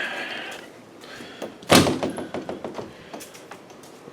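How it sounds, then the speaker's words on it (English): A basement workshop door bangs shut with one sharp thud, followed by a string of lighter rattles and knocks as it settles. "Close the door."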